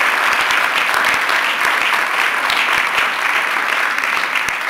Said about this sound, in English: So if you could please give them a round of applause.